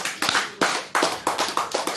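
An audience at a religious study gathering claps in a loose rhythm, about seven distinct sharp bursts of many hands, each decaying quickly before the next, moderately loud.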